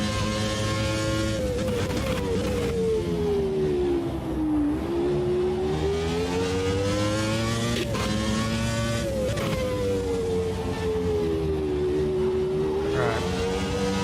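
A race car in the Automobilista 2 video game droning loudly through its gears, with revs rising and falling and brief hiccups on overrun as it slows into corners; no talking.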